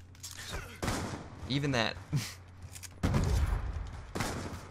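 Video game gunfire during a trickshot match: several bursts of rapid shots and a couple of heavier booms, loud and close, separated by brief pauses, with someone briefly speaking in between.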